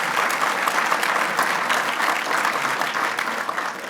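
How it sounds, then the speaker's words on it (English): Audience applause at a 10th anniversary celebration event, a dense steady wash of many hands clapping that carries on for the whole stretch without a break. "Give them a round of applause as well."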